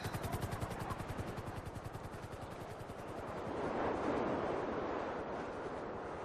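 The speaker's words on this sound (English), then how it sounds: "I hear the helicopter stalling." A video-game helicopter stalls, its rotor thumping in a fast, even beat that slows and fades into a rough, roaring wash.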